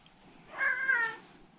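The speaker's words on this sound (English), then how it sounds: "Apologies for the cat." A single short meow from a house cat in a home kitchen, fairly quiet and alone, rising and falling over about half a second.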